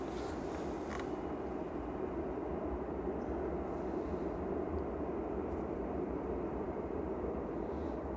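An EasyJet airliner flies near Manchester Airport, a steady broad engine roar at moderate distance that holds evenly throughout without talk.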